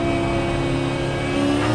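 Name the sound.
car passing on the right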